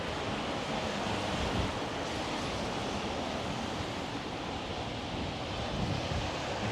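Wind rushes hard through a street wind tunnel on 3rd St W in North Vancouver, a loud, steady broadband roar and buffeting against the microphone that holds for the whole stretch, with no voices.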